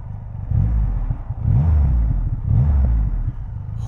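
A Triumph Rocket 3 motorcycle engine revs hard and pulls away up close, rising in repeated surges of throttle with a deep rumble and wind buffeting over the top; no voices are heard.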